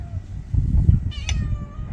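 A cat meows once, short and close, over a low rumble of background noise, with a few soft knocks before it, in the Omani desert.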